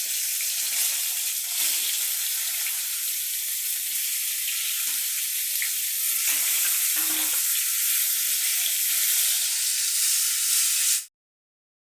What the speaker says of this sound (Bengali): এবার বেগুনগুলোকে আমি ভেজে নিচ্ছি